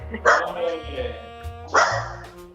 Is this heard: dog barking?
yes